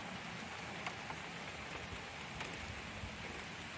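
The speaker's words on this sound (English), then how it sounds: "Nice little rain shower." Light rain shower pattering steadily on a campsite, a soft, even hiss of drops on tent and surroundings with no voices, constant and close throughout.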